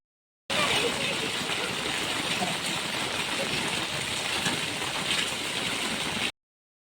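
Steady rain falls continuously at close range, a dense even hiss that runs unbroken from start to end, with no voices over it.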